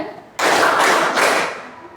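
A seventh-grade junior high class in Indonesia claps together in a short, loud burst of close, sharp claps that lasts under two seconds and tails off, after a brief quiet start.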